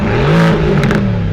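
A 2020 Mercedes-AMG GT R engine revs sharply and briefly on a paddle downshift, a loud throaty blip rising then falling, close by.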